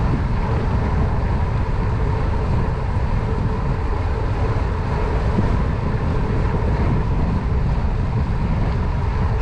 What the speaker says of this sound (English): Still fighting it between a headwind and a crosswind wind since I left the Withlacoochee Trail.